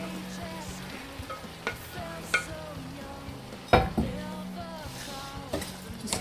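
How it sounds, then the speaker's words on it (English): Meat and cabbage tossed into a pot of lamb and cabbage curry, giving soft sizzling and frying with scattered clinks and scrapes of stirring against the pot, moderately quiet and steady. "Just going to be adding the meat and the cabbage, and that's about 600 grams of meat."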